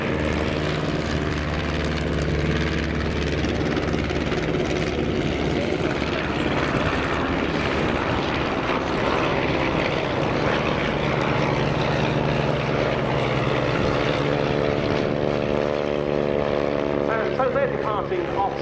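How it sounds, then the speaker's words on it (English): WWI biplanes, two SE-5As, a BE-2C and an Avro 504K replica, make a final flypast at an RAF Cosford air display: a continuous droning propeller-engine roar that shifts in pitch as they pass, with a commentator talking over it. "Final pass from the 4 aircraft of the Bremont Great War Display Team, the 2 SE-5As leading in, the BE-2C and the Avro 504K"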